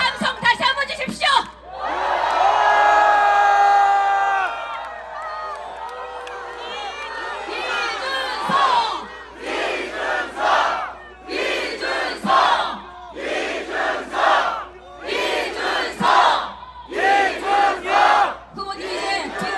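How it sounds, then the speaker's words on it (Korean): A large crowd at an outdoor presidential campaign rally at Seoul Station roars and cheers loudly, first a long sustained shout, then rhythmic bursts of chanting and whoops rising and falling close by. "여러분 큰 함성 다시 한번 주십시오."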